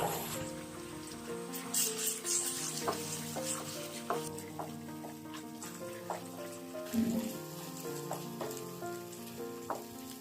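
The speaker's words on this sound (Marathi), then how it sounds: "आता यावर पाव कप उकडलेल्या डाळीची भरड दोन चमचे चिंच गुळाचा कोळ घालून छान परतून घ्या" Coarse boiled dal and tamarind-jaggery pulp sautéing in a pan, a dense continuous sizzle with light spatula taps and scrapes recurring through it, steady and close.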